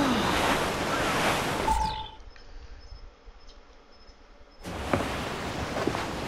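Ocean surf washes over open water in Assassin's Creed Black Flag, a broad rushing swell mixed with wind that drops away abruptly into near quiet for a few seconds before the steady wash returns.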